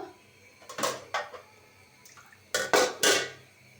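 A large wok for a potato and egg curry gets covered with a makeshift lid: a few sharp metallic clanks and scrapes in two bursts, close and loud against a quiet kitchen.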